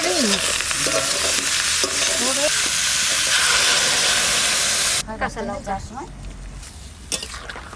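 Young pumpkin stirred into potatoes frying in oil gives a loud, steady sizzle with scraping stir strokes, then a softer crackle later on while someone talks over it.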